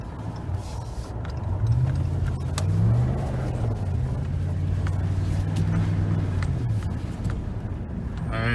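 A 2019 Ram pickup with traction control disabled revs its engine hard outdoors, the throttle rising and holding without cutting out, a steady moderately loud roar with tire and wind noise around it.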